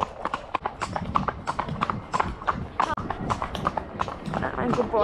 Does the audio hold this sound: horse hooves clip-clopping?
yes